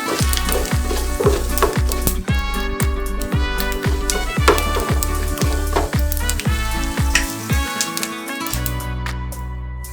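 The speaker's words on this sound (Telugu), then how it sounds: "కొంచెం వేగిన తర్వాత జీలకర్ర ఇప్పుడు ఎక్కువగా వేగకూడదు" Cumin seeds fry in hot oil in a pan for a pickle, a dense close sizzle with rapid crackling and regular tapping knocks of a spoon against the pan throughout.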